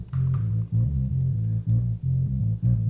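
A filtered sine-wave bass line from an Ableton Operator synth, side-chain compressed, plays a short melody of deep, smooth sustained notes with pumping dips between them, steady and fairly loud with no voices.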